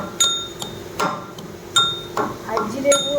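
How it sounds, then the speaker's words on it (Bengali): Ginger pounded into paste in a home kitchen, heard as several loud, close thuds with a slight ringing clink, spaced irregularly about half a second apart, with a voice talking faintly beneath. "এদিকে আদা পেস্ট করছি এখন।"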